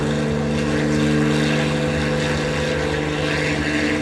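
A 1940 Supermarine Spitfire Mk1a drones in flight, its propeller engine giving a loud, steady, close hum with a strong buzzing tone and no break.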